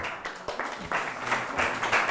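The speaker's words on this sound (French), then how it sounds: "Oh, on ne va pas trop applaudir" An audience at a psychoanalysis lecture claps in an irregular, fairly close burst, individual claps distinct and growing denser before settling.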